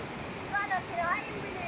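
Floodwater of the swollen Bulatukan River rushes in a steady, noisy wash, with a voice rising briefly over the flow.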